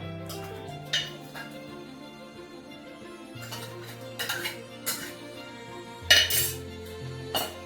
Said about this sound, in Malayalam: ഇനി ഞാൻ കുക്കറിൽ നിന്ന് വേറൊരു പാത്രത്തിലേക്ക് പകർത്തി ഒഴിക്കുകയാണ്.